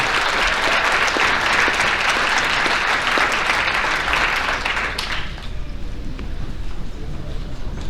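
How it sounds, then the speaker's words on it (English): Loud, dense applause fills the room at a high school athletic banquet for about five seconds, then drops off sharply to scattered claps and room noise. "Let's give these men a round of applause"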